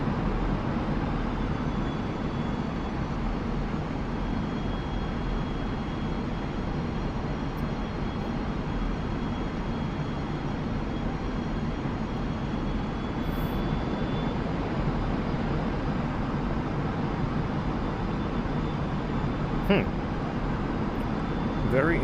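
MiG-29 right engine cranking in the DCS flight simulator, a steady broadband turbine roar and whine holding level throughout, with faint clicks near the end.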